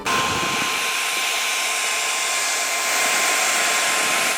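A hair dryer blows steadily and loudly, a constant high whooshing whir with no pauses.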